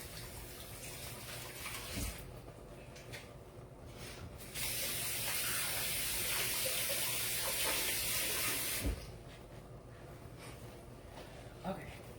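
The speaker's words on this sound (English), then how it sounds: "Actually, I'm gonna wash my hands." Tap water runs into a kitchen sink during hand washing while eggs cook, a steady hissing spray lasting several seconds before cutting off, with brief handling noises around it.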